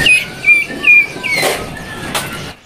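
Songbirds, young chatter birds for sale at a bird market, chirp and whistle in short bright repeated bursts close by, with a couple of louder calls standing out over a quiet background.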